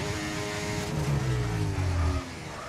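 F1 car engine from the F1 24 racing game, a steady high-pitched whine holding near constant over a low rumble, with a brief rising harmonic before the tone drops off near the end.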